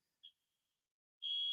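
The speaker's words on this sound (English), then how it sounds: "as the alarm keeps going off." A high electronic alarm beeps once briefly, then after a pause sounds a steady continuous tone, faint and distant in an otherwise quiet room.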